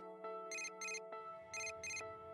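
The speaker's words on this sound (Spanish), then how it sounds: "Este es mi tono de llamada para las llamadas privadas." A mobile phone ringtone from the video game Persona 4 Dancing All Night plays a bright repeating electronic melody in short bursts, clear and alone.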